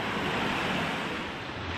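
Springtime runoff from a graded site pours into a channel in a broad, continuous rushing wash, loud and steady with some wind buffeting.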